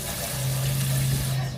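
Water runs steadily from a tap into a pot while rice is washed for cooking, a constant close rushing splash with a low hum beneath, lasting the whole brief moment.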